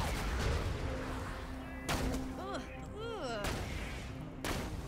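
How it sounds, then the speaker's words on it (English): Sniper rifle shots from a marksman in a shooter video game crack out as a couple of sharp loud reports, mixed with game sound effects and a voice talking over them. "Definitely one marksman taking sniper shots at me."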